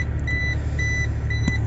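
An electronic buzzer on a SANY machine fitted with a hydraulic quick coupler beeps in short repeated high-pitched pulses, three bursts in quick succession over a low steady hum.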